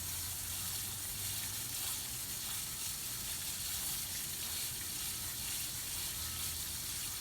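Water sprayed onto tomato plants in a garden, a constant hissing spray with a fizzy, gushing texture, close and steady for the whole stretch with no talk.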